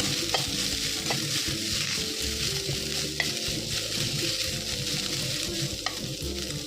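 Vegetables sautéed with a little salt in a pan make a continuous close sizzle under busy, rhythmic scraping and stirring strokes with an occasional sharper tap of the utensil; no one speaks.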